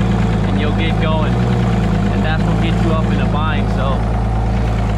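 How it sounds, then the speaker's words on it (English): An Evinrude 150 outboard motor runs steadily after a solenoid replacement, a loud, close, continuous idling drone throughout while someone talks over it. "we know the engine started"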